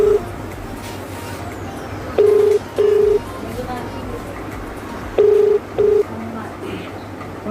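A telephone call is placed and rings out: two double beeps of a ringback tone, about three seconds apart, sound clearly over a low steady background hum.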